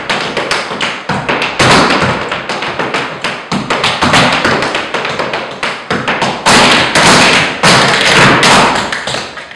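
Tap dancers from a Washington, D.C. company pounding out fast, loud rhythmic taps and heel thuds, dense bursts with brief pauses, continuous and close with no talking.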